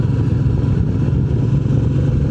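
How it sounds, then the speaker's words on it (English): Royal Enfield Meteor 350 motorcycle ridden out of the city, its steady engine drone and road rumble loud and continuous throughout, without talk. "to enjoy motorcycle riding"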